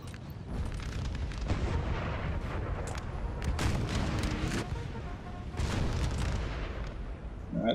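Cannon and artillery fire booms repeatedly in a Napoleon: Total War battle, with dense, overlapping blasts rolling continuously at varied distances.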